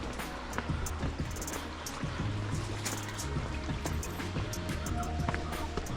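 Water rushes and trickles at a waterfall or spring at Paghman near Kabul, a continuous moderate splashing wash with faint low hum beneath it, heard throughout without talk.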